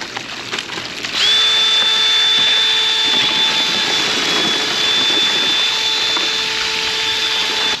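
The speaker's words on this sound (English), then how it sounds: "Got my drill." A power drill spinning in a bucket of water and gold-bearing material for gold prospecting whines steadily at a high pitch, starting abruptly and running continuously with a faint watery churn beneath it.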